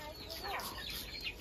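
Chickens cluck faintly in the background, with short, soft calls scattered through a quiet, low-level scene.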